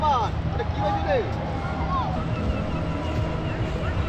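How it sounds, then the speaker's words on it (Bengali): A boat engine drones low and far off at Mandarmani beach, a steady hum beneath wind noise and a babble of people talking nearby. "বোটের আওয়াজ আসছে আমাদের দূর থেকে"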